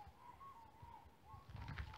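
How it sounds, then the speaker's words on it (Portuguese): Faint, cooing bird calls drift from a forest beside a rural road in Rondônia, Brazil, with soft repeated notes against a quiet, distant background. "Ali a mata. Os passarinhos transando."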